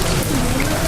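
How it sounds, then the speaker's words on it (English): Heavy rain pours in San Diego in the evening, a dense steady hiss of drops falling on surfaces, loud and close throughout. "it started raining pretty crazy here in San Diego"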